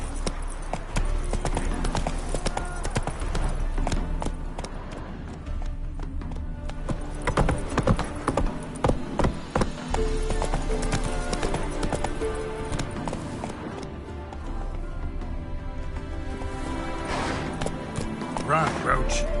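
Roach, a horse in The Witcher video game, gallops with a steady, close clip-clop of hooves. The hoofbeats run throughout, with game music and a voice over them.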